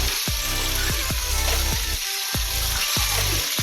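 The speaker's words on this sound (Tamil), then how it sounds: "ஒரு பக்கம் வெந்து ஊற்றி அப்படியே திருப்பி விட்டுறோம்" Fish frying in sesame oil in a pan after being turned over, a loud, steady crackling sizzle with a few sharp low knocks and scrapes recurring throughout.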